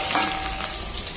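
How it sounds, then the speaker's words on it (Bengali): Potatoes fry in hot oil ahead of a fish curry, giving a short, close, dense crackling sizzle that holds steady throughout with no voices. "মাছ ঝোলের জন্য আলুটা আমি ভেজে দেবো"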